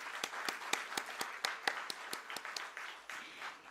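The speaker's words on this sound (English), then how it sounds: "So please put your hands together for Mr." A small audience at the Roadstar Infra Investment Trust listing ceremony claps in quick, fairly even, distinct claps, heard quietly and a little distant throughout.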